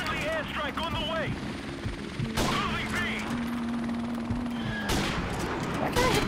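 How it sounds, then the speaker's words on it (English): Gunfire bursts and explosions from a friendly airstrike in the game Modern Warfare Remastered, loud and continuous, with sharp blasts near 2.5 and 5 seconds over dense battle noise and a steady aircraft-like drone. "Friendly airstrike on the way!"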